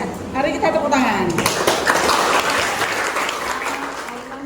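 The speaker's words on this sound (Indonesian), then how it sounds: "mari kita tepuk tangan" A classroom of students applauding, a loud burst of clapping at close range with voices and cheering mixed in throughout, tapering slightly toward the end.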